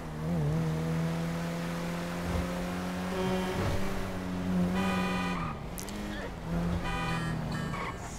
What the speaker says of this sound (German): Der Anis Elegy Sportwagen